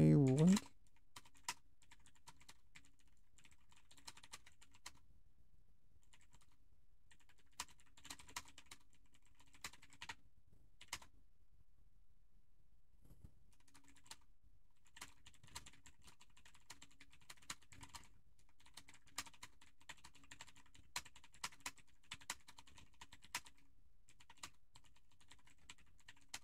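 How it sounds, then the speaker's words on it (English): Typing on a computer keyboard in quick irregular bursts of clicks separated by pauses, fairly close but quiet, beginning right after a brief voice. "Let me type this out for you."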